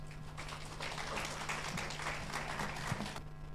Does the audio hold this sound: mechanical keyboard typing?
no